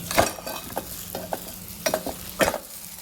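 Spoon stirring masala in a pan while making paratha, with a soft sizzle underneath and several distinct scraping strokes at an irregular rhythm, close and moderately loud.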